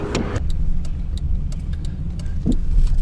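Car engine running steadily as a car is towed on a rope behind another vehicle, a loud continuous low rumble with a few faint knocks and a brief louder surge partway through.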